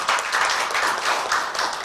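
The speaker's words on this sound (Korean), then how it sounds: "여러분 뜨거운 박수로 부탁드리겠습니다" Audience at a Korean civil-society forum on the June democratic uprising applauds a guest lawmaker's introduction, with a steady, dense wash of many hands clapping throughout, fairly loud and close, with no voices over it.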